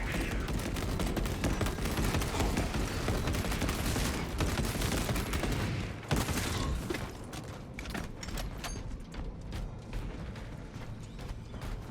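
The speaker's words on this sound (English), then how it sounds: "For some reason, they don't like how the heavy bolter sounds." A heavy bolt rifle fires in a video game in sustained, rapid, heavy bursts that fill the whole stretch. The weapon sounds loud and close and thins slightly partway through.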